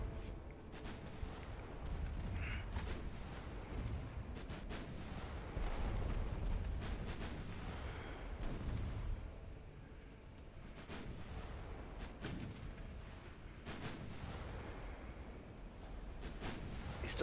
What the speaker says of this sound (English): Secondaries on you so I can try and detonate any of your torpedoes.